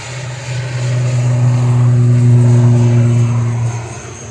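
An ATR 72-600 turboprop departing Manchester Airport for Guernsey gives a droning propeller hum with strong steady low tones, swelling then easing slightly over a few seconds.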